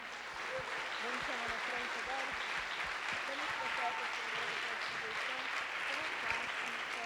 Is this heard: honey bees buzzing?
no